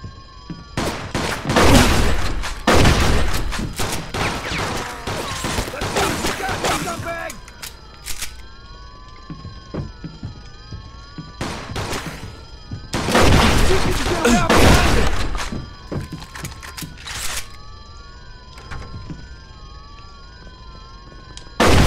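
Gunfire erupts in Mafia II in two long, dense volleys of rapid shots, loud and close, with a steady tonal hum and scattered quieter shots and impacts between them.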